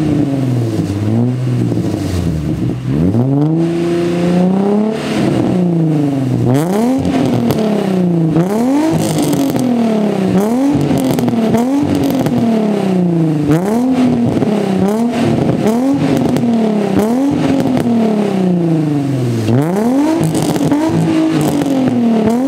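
A Nissan G35 drift car with a full Z1 exhaust revs hard and repeatedly, each loud, raspy climb and drop following the last in a rhythmic pattern close to the microphone.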